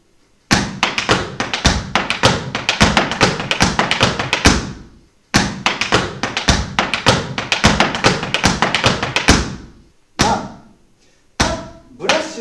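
Tap shoes strike a hard floor in fast, crisp runs of dense steps, including a left-foot pull-back, with two long rhythmic phrases followed by a few short separated bursts.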